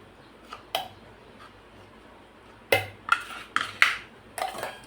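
A spoon clinks and scrapes against a pan and plate as tomato chutney is scooped out, a few sparse clicks early on, then a quicker run of sharp metallic taps near the end in a quiet kitchen.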